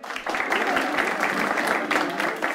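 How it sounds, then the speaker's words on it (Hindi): An audience at a reaction show applauds a contestant, a steady wash of clapping that swells and holds at moderate loudness for a couple of seconds. "तालियां इनके लिए।"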